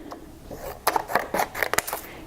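Scissors cut a piece from a clear plastic cupcake box, giving a quick run of crisp snips and clicks close by after a brief quiet start.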